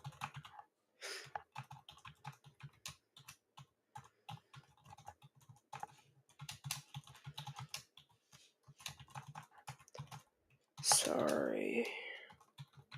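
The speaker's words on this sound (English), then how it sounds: "Sorry for having to like type on my keyboard." Rapid clicking of keys on a computer keyboard, a dense irregular patter of close taps with short pauses, ending with a brief louder burst of voice.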